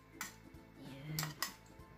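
Metal utensils clink and scrape against a pan as japchae, Korean stir-fried glass noodles with thin strips of fried egg, is tossed and mixed. The clinks are quiet and scattered, with a few sharper taps and no talking.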